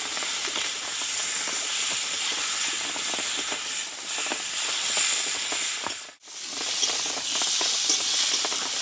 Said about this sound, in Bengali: এই সর্ষে পাটা দিয়ে বন্ধুরা খুব অল্প আছে পটলটাকে একটু ভেজে নিতে হবে